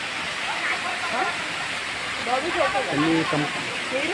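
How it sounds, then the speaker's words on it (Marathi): Steady rushing roar of a large monsoon waterfall fills the scene, with voices murmuring faintly nearby. "सर्वात मोठा धबधबा या ठिकाणी दिसत आहे तुम्हाला"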